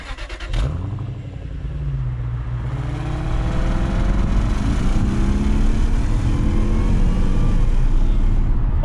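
A Jaguar S-Type R's engine drones steadily as the car drives, a loud low rumble that swells and builds in intensity throughout, with no talking over it.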